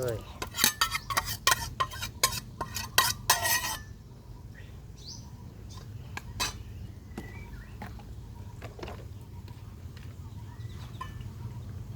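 Canned fish being mashed into a Thai konjac stem curry: a quick run of sharp metallic clinks and scrapes of a utensil against a pot, then quieter scattered taps over a steady low background hum.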